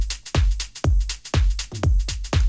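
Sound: drum beat with layered hi-hats

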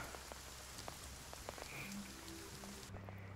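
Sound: rain falling, from the video game Will To Live Online

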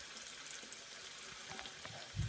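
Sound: alu vadi frying in hot oil

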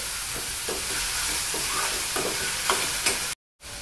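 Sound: sautéing onion in a pan

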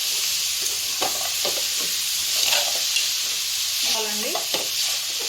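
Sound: tomatoes added to a pan and frying for curry

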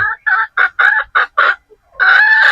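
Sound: chickens (pullets) clucking and crowing

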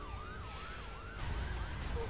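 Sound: police car siren in video game The Crew

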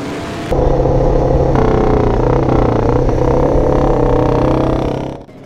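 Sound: original Manx Norton motorcycle being ridden at Donington Park

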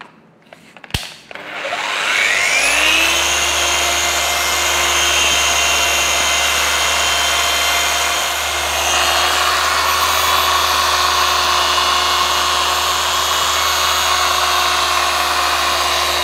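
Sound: polishing machine buffing varnish on a 1995 Harley Davidson

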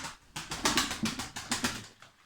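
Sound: kara çıtır pigeon, a female bird, cooing

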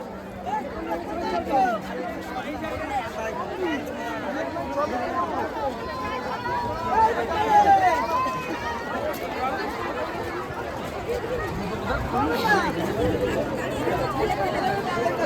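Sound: crowd of tourists at New Digha sea beach

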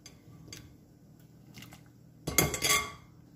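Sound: potatoes being added carefully into a pot of hot water

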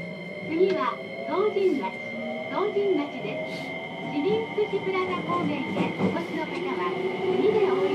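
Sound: electric train departing

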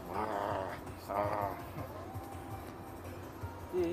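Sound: voice imitating a dog-like growl

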